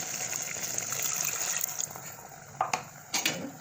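Water pours steadily into a pan of chicken korma gravy, a continuous close gush with a few soft splashes and clinks near the end and no voices.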